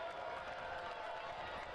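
A stadium crowd at a 2022 NWSL women's soccer match between Washington Spirit and Racing Louisville reacts after a goal is ruled offside. The roar is steady and distant, with no sharp peaks.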